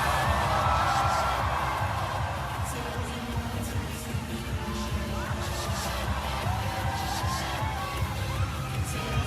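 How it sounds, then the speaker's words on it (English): A Eurovision arena crowd screaming and shouting, a broad roar of cheering and whoops heard from within the hall, with some voices rising above the din. "You can hear people screaming and shouting."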